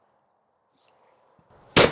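A shotgun fires an Evo 21 gram clay cartridge, a shooting school load made in fibre and plastic wad versions: one sharp, loud close blast arriving after a short stretch of near silence and a faint called voice.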